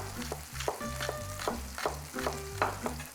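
Salmon fillets fry in a pan, a steady close sizzle broken by several sharp crackles and spits of hot oil at irregular moments, with no talking over it.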